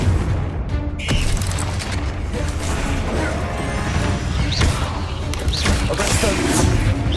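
A Confringo explosive spell blast in Hogwarts Legacy: a sharp crash-like burst early on, then a dense, continuous roar of game effects and rumbling booms that stays loud throughout.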